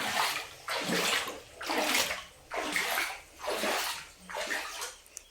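Water sloshes in five rhythmic surges, like steady wading steps through deep water, close and fairly loud.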